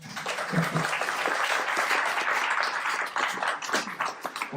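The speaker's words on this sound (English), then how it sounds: "I would love to have an applause for Atacama, the very place that we are here." An audience at a developer talk applauds the host venue, Atacama, with a full, continuous burst of clapping that stays fairly loud and dense throughout, with individual claps poking through the wash.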